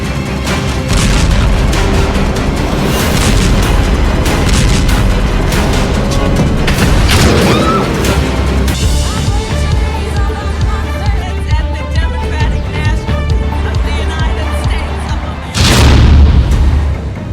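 Bombing explosions in news footage of missile strikes in the Gaza, Lebanon, Iran and Israel conflict: loud, rumbling booms and blasts run throughout, with one heavy, close detonation near the end.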